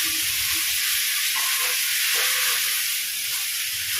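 Cassava dish being mixed in a pot, a loud continuous hissing sizzle with soft scraping of stirring underneath, steady throughout.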